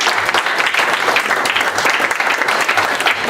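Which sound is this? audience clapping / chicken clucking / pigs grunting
audience clapping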